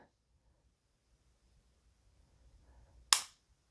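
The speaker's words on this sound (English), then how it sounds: "Nice tactile and audible reset." A CZ P-01 9mm handgun gives a single crisp, close trigger reset click after near silence, with only a faint low rustle leading up to it.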